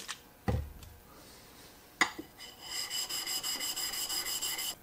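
A steel chisel is rubbed back and forth on a Shapton glass sharpening stone in a steady run of rasping strokes in the second half, following a couple of sharp knocks and a low thud near the start.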